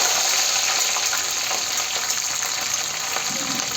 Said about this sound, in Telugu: ఇట్లా గోలినాక పచ్చిమిరపకాయలు వేసుకోవాలి